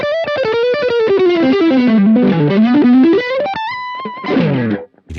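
Electric guitar through a Blackstar Dept. 10 Dual Distortion valve pedal into a modern USA 2x12 cabinet, a loud saturated run of quick picked notes sliding down and back up, then sustained held tones and a final strummed flourish.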